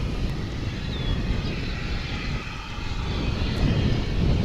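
An American Airlines Airbus A319 airliner comes in to land at Dallas/Fort Worth International Airport, a broad, steady engine roar that stays loud and constant throughout, rumbling heavily in the low end.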